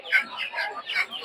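Chickens cluck at a busy poultry market in Madhabdi, Narsingdi, with several short close clucks in a quick uneven run.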